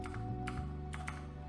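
Quick keystrokes on a computer keyboard as a question is typed into a Snap! programming project, a light, steady run of taps close by with a soft hum underneath.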